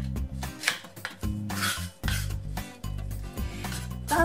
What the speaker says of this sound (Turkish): Sap kısmını kesiyorum.